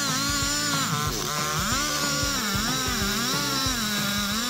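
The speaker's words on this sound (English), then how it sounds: "This style MS-881 saw has accompanied him on many projects harvesting wood for boards and construction" A Stihl MS-881 chainsaw cuts through a tree, its engine droning loud and continuous with a rhythmic rise and fall in pitch as it bogs into the wood.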